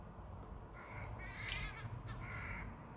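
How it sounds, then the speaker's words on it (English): Crows caw a few times while feeding on rich tea biscuits outdoors, the calls fairly close but quiet over steady low background rumble. "The crows got the biscuits."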